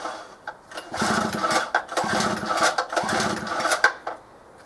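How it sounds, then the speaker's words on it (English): A two-stroke generator, unused for two years, with petrol and ignition on and the control lever off, gets three quick rattling recoil pulls in a row, each a short whirring burst, without catching. "I'll just leave the control lever off for the moment and give it 3 pulls"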